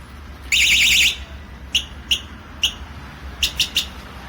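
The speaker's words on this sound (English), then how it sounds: "let's compare the noise of this alarm" A Wsdcam 113dB wireless vibration motion sensor bike alarm sounds a loud warbling siren burst, then gives a series of short, sharp beeps in uneven clusters, close and alone.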